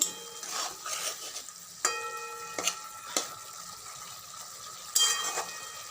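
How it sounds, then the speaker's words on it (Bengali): A spatula stirs stuffed potol with chicken filling in a pan over a soft background sizzle. It makes several sharp scraping clacks at irregular intervals, fairly quiet and close, with no talk. "খুন্তির সাহায্যে ভালো করে নেড়ে নেব"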